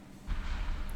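Five-inch naval guns on the Z3-18 destroyer in a naval combat game fire a single deep, muffled boom that rolls on as a low rumble for the rest of the brief moment.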